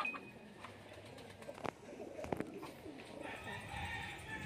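Pigeons in a loft in Del Gallego, Camarines Sur, cooing softly at a distance among faint rustling and scattered taps, with a quiet voice in the background.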